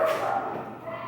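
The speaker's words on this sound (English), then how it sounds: "Do you hear the dogs? She's letting the dogs out." Dogs barking in a home at night, a short burst of yips and woofs at moderate distance, brief and slightly muffled.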